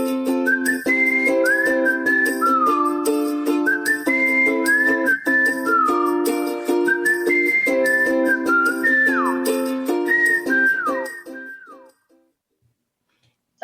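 A person whistles a lively tune close by, with rapid melodic runs and sliding notes played continuously and alone, then breaking off into near silence for the last couple of seconds.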